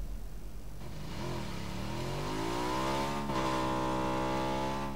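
A motorbike engine in PUBG revs up steadily, its pitch climbing over a couple of seconds and then holding a high, buzzing drone, close and fairly loud, with no one talking.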